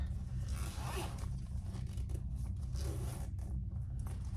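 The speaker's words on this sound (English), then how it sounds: "zip it up" Wallet zipper pulled closed with a continuous raspy zipping that runs steadily for the whole stretch, close and clear, with no talking over it.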